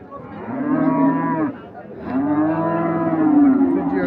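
A Friesian bull at a cattle market lets out two long, deep moos, loud and close, with a short pause between them.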